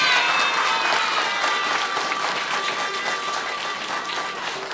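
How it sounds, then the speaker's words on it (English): Students applaud FDIC chair Sheila Bair in a short, steady burst of clapping from a room full of young listeners, fading slightly toward the end. "Let's give Ms. Sheila Bair another round of applause."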